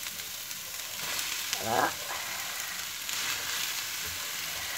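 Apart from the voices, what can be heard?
vegetables cooking in a pan without oil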